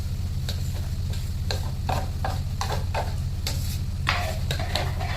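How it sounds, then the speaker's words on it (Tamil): A spoon scrapes and clatters in quick, irregular strokes while masala stirs through sizzling oil in a pan for crab gravy, close and clear. "மசாலா போட்டு ஒரு நல்லா கிளறிட்டு எண்ணெய் பிரிஞ்சு வர வரை கிளறுவோம்."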